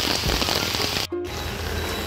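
Heavy rain pouring outside, a dense steady hiss that fills the whole moment at even loudness, briefly dropping out for an instant before resuming.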